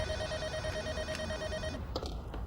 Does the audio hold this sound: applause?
no